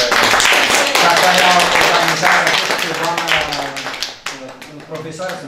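Applause for a teacher rings out at a book donation event at a school in Ungureni. Dense clapping fills the whole stretch, with a person talking over it throughout.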